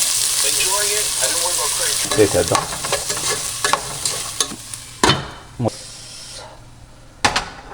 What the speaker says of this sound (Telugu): ఆనియన్ వేసేద్దాం.